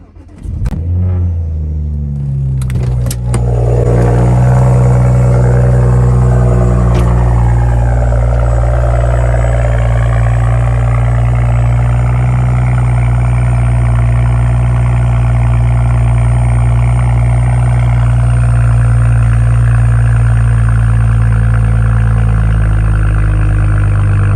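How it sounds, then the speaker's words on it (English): A BMW 335i with stock exhaust and muffler delete cold starts: a brief starter crank bursts into a loud, raspy flare, then settles into a steady, deep, droning idle heard close up from inside the car. "we are in the car with the stock exhaust with the muffler delete. I'm gonna give you guys a cold start"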